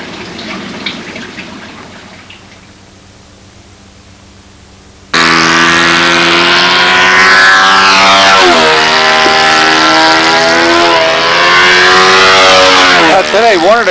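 Nitro engine on a model P-51 Mustang airplane, the Windy Miss Ashley II, bursts into a loud, steady high-pitched running roar after a quiet stretch, its pitch swinging up and down as the throttle changes.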